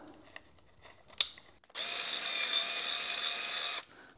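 A power tool drives a screw into a trailer drawbar during assembly, a few faint clicks and a knock, then a loud steady whirring burst of about two seconds stopping abruptly, no talk.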